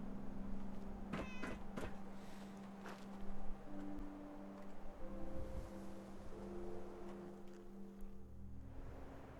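Cat meows inside the Fallout video game, several short calls in the first few seconds over a steady low hum and game ambience, with tonal game sounds later.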